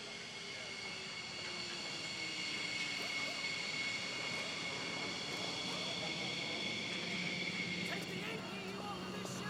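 A fighter jet engine roars in a steady, sustained rumble during low-level flying, continuous and fairly distant-sounding for several seconds, with faint background voices.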